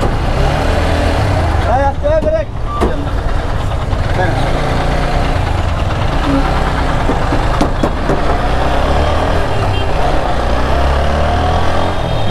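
A motorcycle with a front brake problem runs with a steady, loud engine drone close by. A voice speaks briefly near the start.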